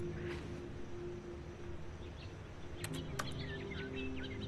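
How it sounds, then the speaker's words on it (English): Birds chirp and sing faintly in the wilderness scene of The Stanley Parable: Ultra Deluxe, a few scattered high calls over a steady low ambient hum. "You can hear the birds singing."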